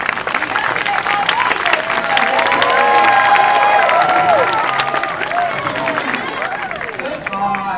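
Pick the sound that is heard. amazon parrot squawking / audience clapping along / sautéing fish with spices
audience clapping along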